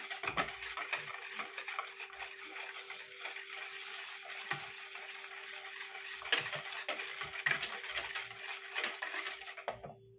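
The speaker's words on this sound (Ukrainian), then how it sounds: "Перемішуємо кефір із содою." Kefir and baking soda stirred in a bowl, a steady scraping and clinking of a utensil against the bowl, close and continuous with no voices.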